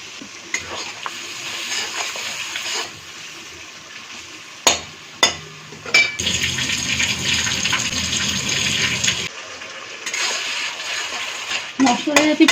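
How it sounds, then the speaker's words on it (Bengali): Spice paste for a Bengali bhola fish curry sizzles in a pan on low flame and is stirred with scraping strokes, with a few sharp clanks of the spoon against the pot and a louder burst of frying midway. "এবার একটু কষিয়ে নিচ্ছি মশলাটা।"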